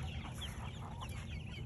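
Chickens cluck softly and continuously as they eat cicadas thrown down to them, a low, busy farmyard murmur with no talking.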